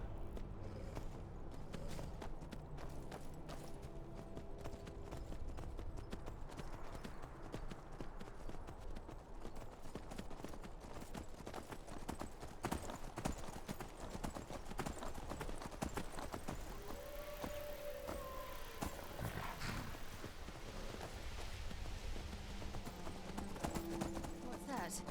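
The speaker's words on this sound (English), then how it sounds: "Sofia's horse really has a taste for blood at this point." Horse hooves gallop in the video game Skyrim, a continuous rapid clatter of hoofbeats under ongoing talk, with an occasional whinny.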